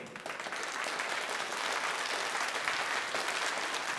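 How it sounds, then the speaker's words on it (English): Steady, fairly distant applause from a commencement ceremony crowd, a dense wash of many hands clapping evenly for a few seconds with no voices on top. "can we give them a round of applause again?"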